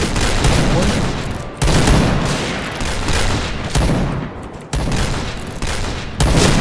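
Gunfire in the Point Blank video game: loud, close bursts of rapid shots in repeated volleys with short gaps, dense and continuous across the stretch.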